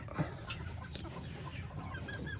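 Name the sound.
chickens clucking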